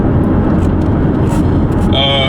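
Chevrolet Camaro SS engine accelerating, a loud continuous low roar from inside the car on the road, steady and dense for a couple of seconds.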